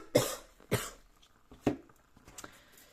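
A woman coughs three sharp times in a quiet room, spaced about half a second apart, followed by a couple of softer throat-clearing sounds.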